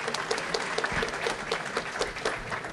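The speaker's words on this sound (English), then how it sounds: "we're going to give her a round of applause anyway" Banquet audience at the Hazel Park Promise Zone annual dinner breaks into a round of applause, a dense, even clatter of many hands, close and sustained throughout.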